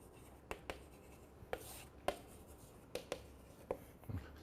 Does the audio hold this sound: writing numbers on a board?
yes